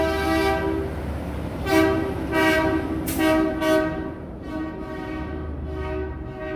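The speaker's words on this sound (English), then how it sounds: "That guy's honking his horn." A loud horn blasts repeatedly in a series of short, stuttering honks over a low engine rumble, then holds steady.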